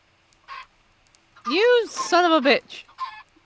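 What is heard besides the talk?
baby chickens clucking in a video game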